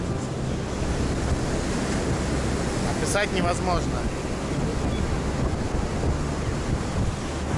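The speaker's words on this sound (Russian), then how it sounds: "Мы подошли к океану, но волны метров, скажем, 5 для зрителей. Адские волны." Huge ocean waves around five metres high crashing on the shore, a continuous loud roaring surf with wind buffeting the microphone, while someone briefly speaks over it.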